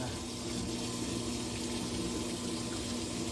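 Water gushes steadily into a washing machine as it fills on a medium water level, a continuous close rushing flow with a low pump-like hum beneath it.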